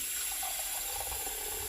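Tap water runs steadily into a kitchen sink while making French onion soup, a soft continuous rushing hiss with no talk over it.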